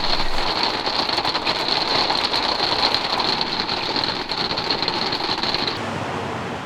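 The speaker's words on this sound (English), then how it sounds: "this is a lot of rain and we don't have an umbrella" Heavy torrential rain falls outdoors in Ljubljana, Slovenia, a continuous hiss and patter close by with a steady high-pitched whine running beneath until it cuts off near the end; no voices.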